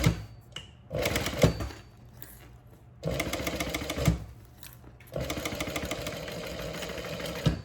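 A sewing machine fitted with a zipper foot stitches along a zipper's teeth while a backpack is made, running in three steady bursts of whirring stitches separated by short pauses, close and clear with no talk.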